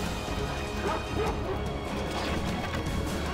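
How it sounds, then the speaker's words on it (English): War dogs bark, yip and whimper in a Rome-themed strategy video game during a clan tournament battle, set within a dense, continuous mix of crashing and clashing combat noise. "But these dogs are really causing trouble for Cynthia here"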